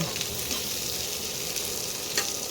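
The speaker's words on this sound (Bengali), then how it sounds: "পেঁয়াজগুলো ভাজা হয়ে গেছে পুরো কালার চেঞ্জ হয়ে গেছে" Onions with green chillies frying in hot oil in a pan while a sesame chicken dish is cooked, making a continuous close sizzle and crackle with light stirring scrapes and no voices.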